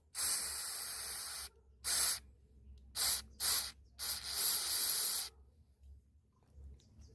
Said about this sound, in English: we will also use a cleaner on it.